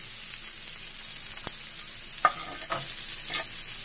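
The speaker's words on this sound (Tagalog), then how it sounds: "igigisa lang yung bawang, sibuyas, luya" Garlic, onion and ginger sauté in a pan with a soft, steady sizzle, broken by a sharp clink and a few scraping stirs.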